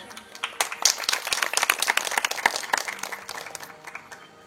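Audience applause at a Bhagwat Katha religious discourse in Lasalgaon, a dense run of many hands clapping steadily and loudly for several seconds, with no talk over it.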